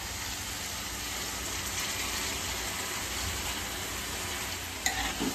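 Soaked rice being stirred into prawn pulao in a pan, a steady close scraping and soft sizzle running without pause, with a slightly louder knock near the end.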